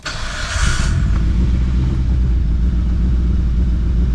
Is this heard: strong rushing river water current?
no